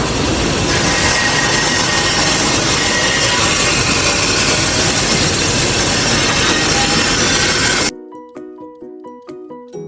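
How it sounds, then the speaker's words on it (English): A bandsaw rips wood into half-inch strips, its loud, steady buzzing whine running continuously for about eight seconds before cutting off, followed by quieter tonal sounds. "1/2 inch rips down the bandsaw."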